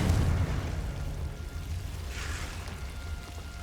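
Confringo explosion spell cast in the video game Hogwarts Legacy: a deep rumbling boom that rolls on steadily, with a brief airy burst rising midway.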